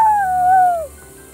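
A person imitates a dog with a single drawn-out howl that slides downward in pitch and then stops, leaving quiet room tone.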